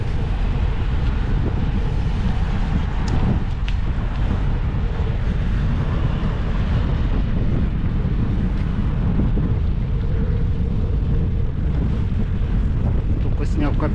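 Steady wind buffeting the microphone, a constant low roar with rumbling gusts throughout.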